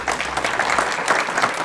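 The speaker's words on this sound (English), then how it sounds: "a round of applause" An audience at a county board of education meeting applauds in a steady, dense round of clapping that fills the whole moment with no talking.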